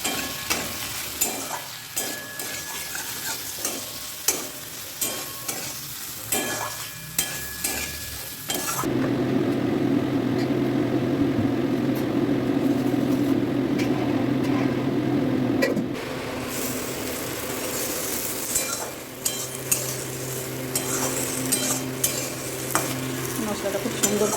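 Taro leaf curry with spices being stir-fried in a pan: steady scraping and stirring over a constant sizzling hiss, with occasional clinks of a utensil on metal. One long stretch is a louder, broader sizzle, and no one speaks.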